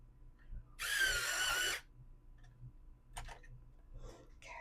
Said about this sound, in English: I do have a electric sharpener now, so when you hear that in the background, that is what that is